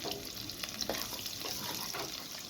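Onions dropped into half a cup of hot cooking oil in a wok sizzle and fry steadily, a dense close hiss with faint stirring over a few seconds.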